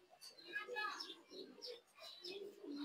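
Pigeons coo softly in a loft, a pair with a male being brought together with a female, low murmuring coos mixed with faint chirps and a person talking over them.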